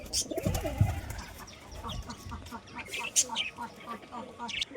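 Pigeons coo softly while drinking and eating, their low calls mixed with light chirps and shuffling over a steady busy background, with faint voices in the distance.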